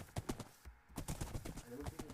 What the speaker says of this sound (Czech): tady jsou nějaký koně